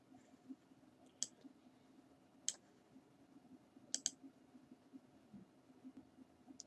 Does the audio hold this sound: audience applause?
no